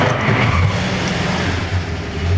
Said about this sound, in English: We'll do a startup of our 1961 Studebaker Lark